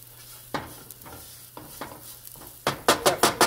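Bread crumbs toast in a pan for stuffed mushrooms, stirred with a utensil in irregular scraping strokes over a light sizzle, ending in quicker, louder rhythmic scrapes.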